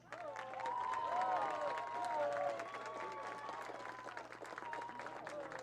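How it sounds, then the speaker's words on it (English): Spectators at a college softball game between Chowan University and Francis Marion give a warm round of applause, clapping swelling and then tapering, heard somewhat distant with scattered cheers over a low hum. "thanking them in a warm round of applause"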